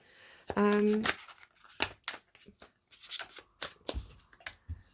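A deck of tarot cards is riffle-shuffled close up in one quick burst, followed by several crisp taps and snaps as the cards are handled, with a voice speaking intermittently.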